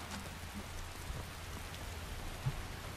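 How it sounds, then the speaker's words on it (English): Steady rain falling in the video game Skyrim, a constant soft hiss of drops on surfaces with a low rumble underneath, fairly quiet and unbroken with no talking. "All right, let's get out of this rain."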